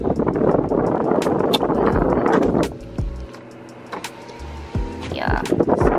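A power window on a 2023 Nissan Maxima runs with a steady electric motor whine inside the car, starting partway through and stopping briefly, while wind noise and a voice are heard around it.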